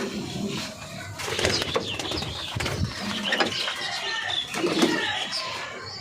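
Pigeons fly and land at a home loft, with bursts of wing flapping and soft cooing scattered over a busy, close background of rustles and movement.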